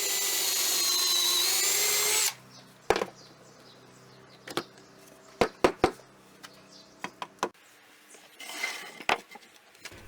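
A drill bores pocket holes into wood through a pocket hole jig in a workshop, opening with a loud sustained whine that cuts off abruptly, then a run of sharp scattered clicks and knocks, with a shorter drilling burst near the end.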